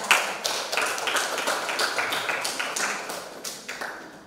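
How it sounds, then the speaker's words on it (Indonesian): Classroom students clapping in applause, a quick run of rhythmic unison claps that repeat in short bursts, close and fairly loud, with no talking over them. "Ya, tepuk tangan untuk kalian."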